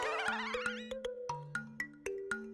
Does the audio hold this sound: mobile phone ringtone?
yes